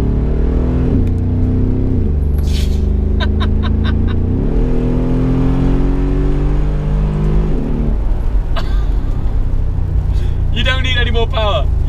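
A Brabus G700 Widestar, a wide-body Mercedes G-Class truck, revs its engine in a series of rising and falling pulls. Each run is deep and loud, with brief gear-shift breaks and a sharp higher note near the end.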